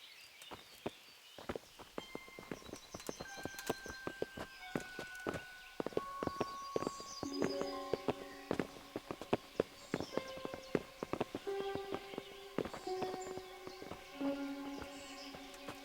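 Horse hooves clip-clop in Kingdom Come: Deliverance, a steady run of sharp hoof strikes at close range against a busy medieval background with some chiming tones.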